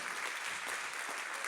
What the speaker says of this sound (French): je voudrais qu'on dise vraiment un grand applaudissement, un grand merci à la famille